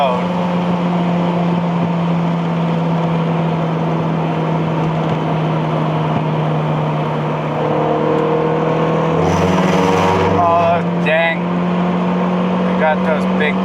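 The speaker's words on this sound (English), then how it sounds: "Oh, I just hit the rev limiter." A 1989 Honda Accord LXi coupe with 350,000 miles winding its engine up to the rev limiter while driving, a loud steady drone inside the car that climbs in pitch toward the end, followed by a brief stutter.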